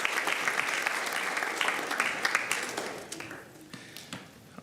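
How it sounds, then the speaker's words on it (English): A room of attendees at a school district board meeting breaks into steady applause, a dense wash of many hands clapping that gradually tapers and softens. "let's give yourselves a round of applause, everyone associated with our schools"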